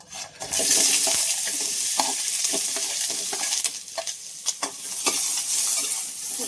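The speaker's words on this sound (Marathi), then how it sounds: "तेल आपलं टाकले तर पहिला कांदा टाकूयात" Chopped onion dropped into hot oil, frying with a loud, steady sizzle and occasional stirring clinks, close up and with no talk.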